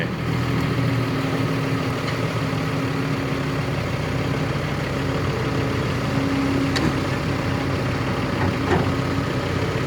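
A Doosan DX200A excavator's engine runs steadily while digging a pond and loading soil for fill, a continuous close, loud drone with a few faint clanks.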